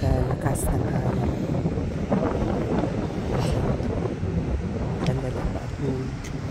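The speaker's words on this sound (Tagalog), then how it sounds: "napakalakas ng hangin" Strong wind buffets the microphone in a constant roar at a coastal rock formation in New South Wales, Australia, with a voice talking faintly underneath.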